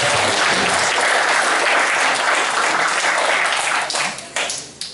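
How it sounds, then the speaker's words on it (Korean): Dense applause from an audience at a 2015 neighborhood patrol volunteer youth summer event in Gumi, Korea, fills the clip steadily and then thins and tapers near the end. "박수 부탁드리겠습니다."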